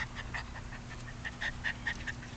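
Sheltie puppies panting and playing, with quick rhythmic breathy pants and a few faint squeaky whimpers, quiet and close, with no one talking.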